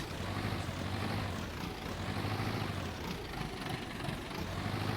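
A farm vehicle engine from a farming video game drones steadily, holding a low, continuous rev with a slight waver and no pauses, fairly quiet and alone.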